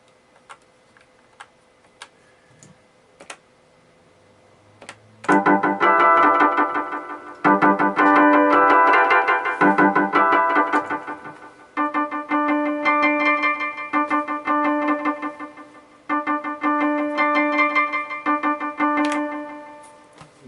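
Yamaha Electone HS6 organ playing a user-saved voice with rhythm switched off: after a few faint clicks, loud bright sustained chords enter and repeat in several phrases, no one speaking.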